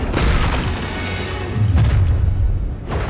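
Explosive Confringo spell blasts in Hogwarts Legacy gameplay, a dense low booming rumble with thuds that swells midway and trails off, loud and continuous for about three seconds.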